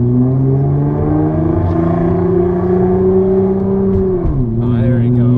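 A 650HP Nissan GT-R R35's engine hums steadily and loudly up close with a sustained tonal drone, then the pitch dips and shifts as the throttle is pressed.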